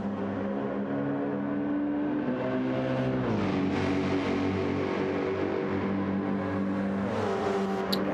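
GR3 race car lapping Interlagos in a racing video game, a steady loud engine drone with rising and shifting pitch as it accelerates and changes gear, continuous throughout with no talk.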